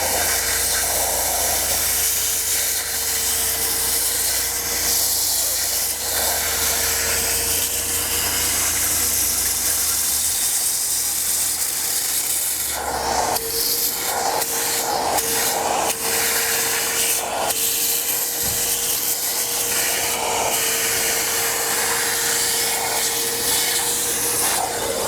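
A steady, loud vacuum roar with a high whine runs throughout as it cleans Alcantara upholstery in a Bugatti interior, shifting in tone partway as the nozzle moves and briefly lifts, with no talking.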